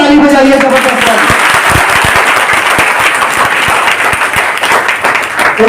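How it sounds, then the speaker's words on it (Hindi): Loud, dense clapping from a large audience at a business motivational event in Ludhiana, sustained and roaring with sharp individual claps throughout, close and continuous over about six seconds. "एक बार पहले अपने लिए ताली बजाइए जबरदस्त"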